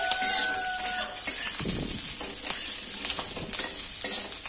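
A large garlic clove is stirred in a hot pan for lobia bharta, a black-eyed pea mash. A utensil scrapes and taps the pan several times over a soft, continuous sizzle.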